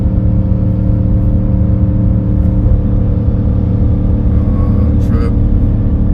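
Gas 6.4 Hemi V8 in a Ram 2500 3/4 ton truck towing an 11,000 lb travel trailer up a Rocky Mountain climb, a loud, steady, deep engine drone at around 3,500 RPM with cabin rumble.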